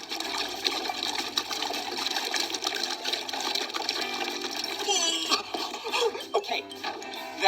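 Water splashes and pours steadily into a container with bubbling and sloshing, while someone talks softly in the background.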